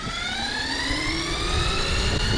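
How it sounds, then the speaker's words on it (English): CYC X1 Pro Gen 2 e-bike motor at wide open throttle, a steady high-pitched electric whine with rising tones that climb continuously, loud and close, with no talk. "So on one, I want to give it wide open throttle."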